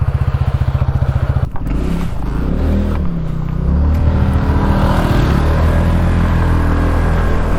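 A 2025 TVS Ntorq 150 scooter being ridden on the road, its engine note holding a steady, loud drone close to the rider with a brief clattering bump partway through and no talk over it.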